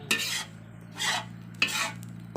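Grated coconut being fried in a pan for kerisik is stirred in three separate scraping strokes, soft and close, over a low steady hum with no talking.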